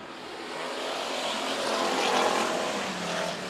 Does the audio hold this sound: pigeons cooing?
no